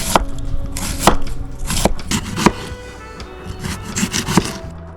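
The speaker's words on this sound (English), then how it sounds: "And we'll try to chop it as fine as possible." A homemade custom knife chops food finely on a wooden board, giving sharp, close, irregular knocks of roughly ten strikes with quick rapid bursts between them.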